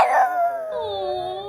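A dog gives a short, close vocal howl that slides downward in pitch, as if mimicking a spoken phrase, alone with no talking.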